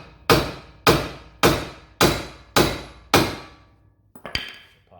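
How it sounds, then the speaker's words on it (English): Six loud, evenly spaced metallic hammer blows on a car part during removal of a K24Z7 engine from an EG hatchback ring out one after another, followed by a few lighter, quicker knocks. "give it a few good whacks with the old hammer"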